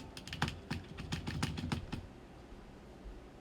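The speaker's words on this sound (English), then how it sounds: "sound test for the Msi Vigor GK20 gaming keyboard" Spacebar of an MSI Vigor GK20 gaming keyboard pressed repeatedly, about a dozen close, crisp clacks in an uneven rhythm over two seconds, then quiet.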